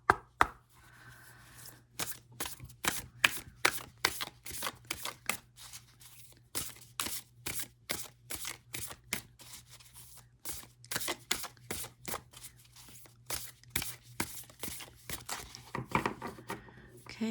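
Oracle cards are shuffled for a long stretch, a rapid series of crisp riffling and slapping bursts in an uneven rhythm, close and fairly quiet against a low steady hum, with no talking.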